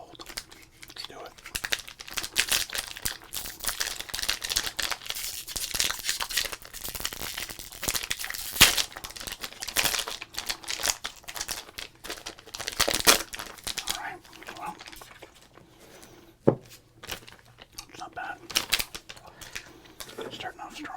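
Crinkly foil wrapper of a 2026 Topps baseball trading card pack being handled and torn open, close and dense with steady rustling and crackling throughout.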